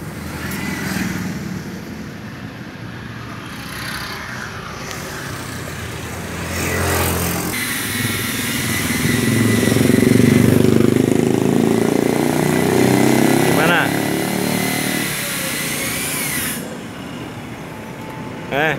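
A 2017 Suzuki Ertiga Dreza 1.4L engine fitted with an HHO fuel saver revs up loudly, swelling to a sustained roar and easing back down, heard close with brief voices and background noise.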